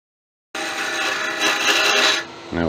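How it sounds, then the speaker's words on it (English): Steady abrasive rubbing on a wooden finial on a lathe, a continuous raspy sanding sound lasting about two seconds before easing off, with a brief low knock at the end. "Now I do a fair bit of sanding when I'm doing finials."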